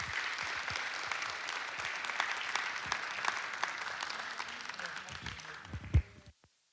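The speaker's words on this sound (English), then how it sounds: "And I just want to give a round of applause for them and thank them for coming out." Audience at a heart and vascular health expo applauding the medical team, with sustained clapping at moderate distance that thins out and stops abruptly near the end.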